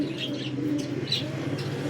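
Long-flying racing pigeons cooing softly in a loft, a low steady murmur with a few brief higher chirps over it, close by and unaccompanied by talk.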